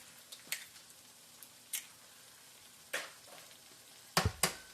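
Eggs for migas cook in a pan, a faint low sizzle broken by several sharp crackling pops and spatters at uneven intervals, heard close with no talk.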